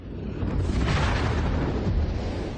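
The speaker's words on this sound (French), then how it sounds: "elles se court-circuitent en une gigantesque explosion" A solar flare eruption rendered as a sound effect, a loud, sustained rumbling explosion roar with a dense low-end boom that holds steady for a couple of seconds without any voices.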